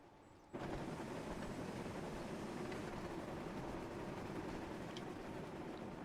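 A steam train rumbles steadily along in the Thomas & Friends Wonders of Sodor video game, a Gordon double-header hauling a mail train; a continuous, fairly loud running roar starts abruptly after a brief quiet moment and holds evenly throughout.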